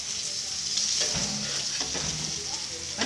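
Chopda fish fries in hot oil in a pan, giving a loud, steady sizzle with light crackling and a few stirring scrapes.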